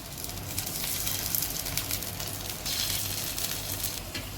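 Steady sizzle and crackle of food frying in oil in a hot frying pan, a continuous dense hiss at moderate level with no voices.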